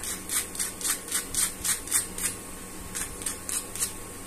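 Crispy, low-oil poha vada being bitten and chewed, giving a series of sharp, close crunches in a quick rhythm, a short pause, then a few more crunches, with no talking.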